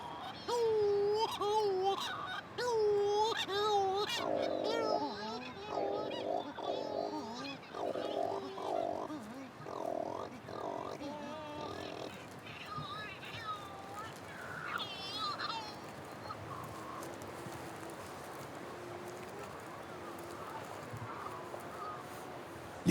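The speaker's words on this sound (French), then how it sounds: "Les puffins cendrés, qui se lamentent tels des nourrissons, nichent la nuit sous les cahots rocheux." Cory's shearwaters calling at night from nesting sites among rocks on Corsica, wailing, baby-like cries in a rhythmic series, fairly near, fading into a quieter stretch of mixed cries and background hiss.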